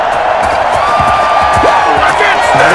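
A stadium crowd roars and cheers after a big play in the Madden NFL 21 football game, Cincinnati Bengals versus Miami Dolphins, a loud sustained swell with a commentator's voice over it.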